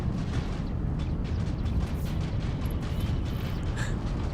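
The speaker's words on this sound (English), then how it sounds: "Our ships are getting destroyed" Ships being destroyed in the Star Citizen space game, a dense, continuous roar of rumbling explosions and crackling debris, loud and unbroken with faint higher pings over the top, no talk.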